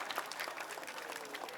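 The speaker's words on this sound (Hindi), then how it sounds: "वो जोरदार तालियां डॉक्टर साहब के लिए।" Loud applause for a doctor being honoured at a community cleanliness run event in 2017, dense steady clapping from a gathered crowd filling the short moment with no talk.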